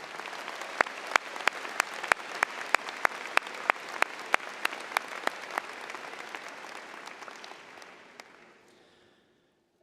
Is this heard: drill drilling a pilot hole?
no